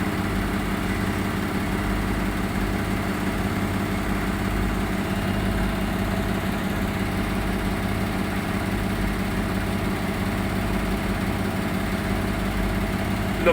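A Hotpoint HE7L492 washing machine on an interim spin during a Cotton Standard 20 cycle on darks, giving a steady, continuous mechanical hum and whir that holds at an even level throughout.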